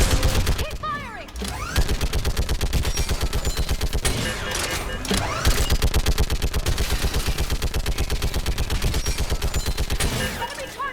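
Sustained automatic gunfire in the Mass Effect 3 sci-fi shooter, with loud, dense rapid bursts running almost continuously and a few brief pauses, under occasional shouted voices.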